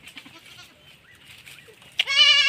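A farm goat gives a single loud, close bleat near the end after a stretch of quiet rustling and faint background sounds.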